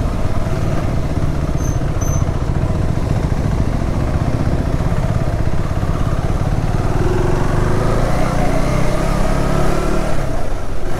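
A KTM Adventure 390 motorcycle rides onto a dirt road through dense forest, its engine droning steadily and loudly with rough, broadband rumble the whole way through, and no voices.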